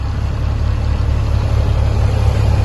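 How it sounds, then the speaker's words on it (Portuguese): A truck engine idles steadily with a deep, constant rumble, run to build up air brake pressure after loading a cargo, with no voices over it. "Ligar o caminhão pra fazer ar."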